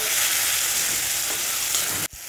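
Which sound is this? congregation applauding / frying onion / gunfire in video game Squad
frying onion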